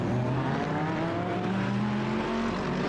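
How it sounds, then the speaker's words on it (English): In a GT3 sim racing game at Long Beach, a race car engine climbs in pitch under acceleration, then holds a sustained high whine, loud and continuous for a few seconds, with no talking. "I can hear a car"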